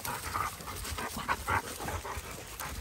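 A shelter dog pants softly with brief whimpers mixed in, a steady breathy rhythm close by with a few short tonal whines rising above it.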